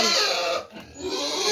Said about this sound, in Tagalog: Ayan pa mga baboy.